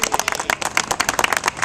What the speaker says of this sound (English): So let's give him a nice round of applause.